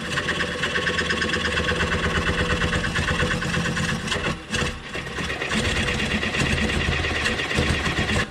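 Wood lathe spinning a live-edge bowl as it is slowed down, a steady dense motor drone with rhythmic rattling and a brief dip partway through, loud and close.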